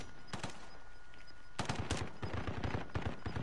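Automatic gunfire in Call of Duty Modern Warfare rattles in two loud bursts of rapid shots, with more scattered firing following close by and no voice over it.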